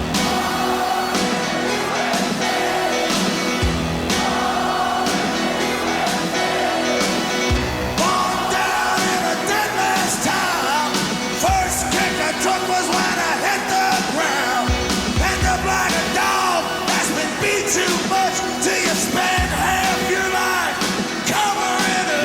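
A rock concert crowd chants and yells over loud live music with pounding drums, the roar of the audience steady and full throughout.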